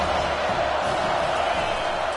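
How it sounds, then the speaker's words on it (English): A loud stadium crowd roars without a break through a college football game between Clemson and Miami, a dense wall of cheering that fills the space. "this crowd is tearing the lid off this place"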